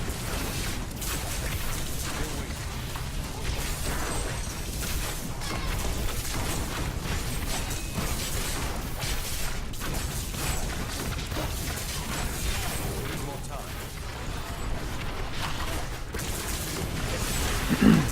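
Explosive Blast spells detonate over and over in the game Diablo 3, making a dense, steady wash of booming, crashing blasts that barely lets up, with no talking.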